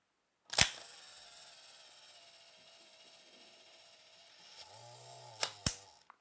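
An Exakta camera fires its shutter on a six-second exposure: a sharp mechanical click opens it, a faint whirring mechanism runs quietly, then a pair of crisp clicks closes it, all close-up.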